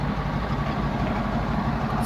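A truck engine idling close by, a steady, dense low rumble that holds evenly for about two seconds before cutting off abruptly.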